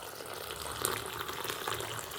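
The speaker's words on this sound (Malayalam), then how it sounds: "ഈ ഗ്ലാസ്സിൽ ഒരു രണ്ടര ഗ്ലാസ് വെള്ളം നന്നായിട്ട് ചൂടാക്കിയതിന് ശേഷം നമുക്ക് ഒഴിച്ചു കൊടുക്കാം" Hot water is poured onto washed sago in a pot while making papadam, a soft continuous pouring gush that stays fairly quiet and even throughout.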